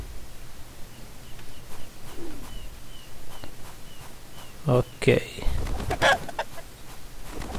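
A chicken clucks softly in the woodland area of an RPG game, a few short calls rising between scattered game sounds and a brief spoken word.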